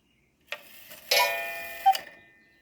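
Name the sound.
antique cuckoo clock striking the half hour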